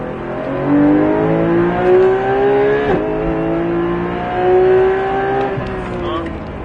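A Porsche 991 GT3 engine hums at a steady, moderate throttle with gently rising pitch, close by on a race circuit, as a voice speaks over it.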